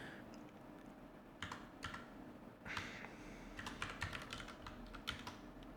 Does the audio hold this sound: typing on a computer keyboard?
yes